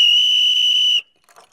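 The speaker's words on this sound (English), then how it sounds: "this weird whistle is supposed to be unusually loud, but it's got a log in there instead of a spherical ball." A loud, shrill whistle with a log in place of the usual round ball blows one steady blast for about a second, then cuts off sharply, followed by faint rustling.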